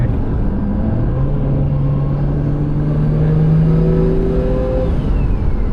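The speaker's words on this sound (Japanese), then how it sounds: "ピューってね。 風吸ってる音がね。" A tuned Nissan Skyline GT-R R32 engine drones steadily with a rising, airy turbo whistle sucking in air, continuous and fairly loud throughout.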